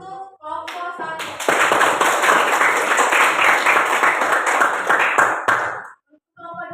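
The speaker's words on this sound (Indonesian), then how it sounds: "Oke, aplaus untuk kelompok 1." Applause for group 1 in a classroom: dense, close clapping from a group of hands, sustained for about four seconds before stopping abruptly, with brief voices before and after.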